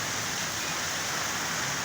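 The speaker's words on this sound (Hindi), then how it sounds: "बहुत ज़बरदस्त बारिश का आलम है। जैसे कि आप देख रहे हैं, बहुत स्पीड से बारिश हो रही है" Heavy rain pouring down steadily outside a flat at dusk, a dense continuous hiss with no breaks, heard from indoors at moderate level.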